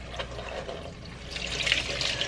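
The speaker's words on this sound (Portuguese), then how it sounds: "você abre a torneira" Running tap water splashes steadily in a bathroom sink while makeup brushes are rinsed, a continuous close wash of water that grows a little louder toward the end.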